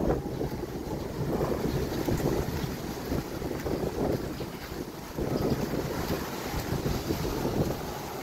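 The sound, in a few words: strong ocean waves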